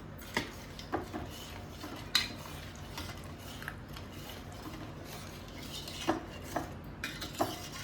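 A spoon stirring allam pulusu, a ginger tamarind stew, in a metal pot, giving soft scraping and scattered light clinks at an irregular pace, quiet and close.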